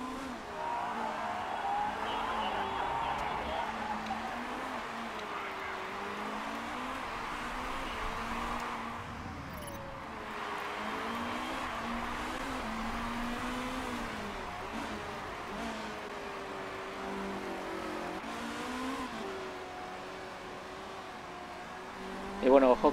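Race cars in the management game Motorsport Manager run with turbo boost to close the gap, a steady engine drone with rising and falling pitch sweeps under ongoing speech, and a sharp burst near the end.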